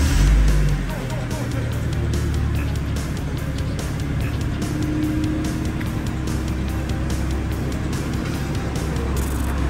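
A car's suspension raises the body with a steady, loud mechanical drone that holds evenly throughout. Voices murmur faintly in the background.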